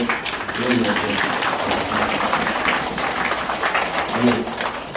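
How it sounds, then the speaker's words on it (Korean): Church congregation giving welcoming applause to newcomers at a worship service, with steady clapping throughout and voices murmuring beneath it. "귀한 박수 환영의 박수 드리겠습니다"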